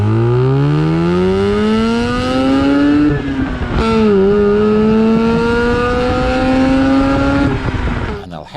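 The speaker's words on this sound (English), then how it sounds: "these engines love to rev." Rotary engine of a 2003 Mazda RX-8, loud and close, climbing through a long rising rev with a brief dip and shift, then holding a high buzzing whine before dropping off at the end.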